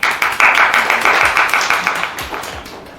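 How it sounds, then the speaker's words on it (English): A short burst of hand clapping from a small group, crisp and close, with individual claps audible before it thins out and fades over a few seconds. "they deserve applause for that"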